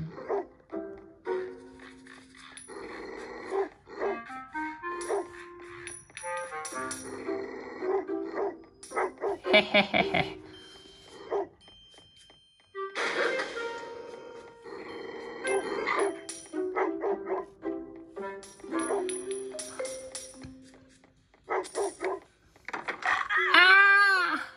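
A dog in a video game barks in short, yippy bursts among game sound effects and coin-like chimes, while someone talks over much of it.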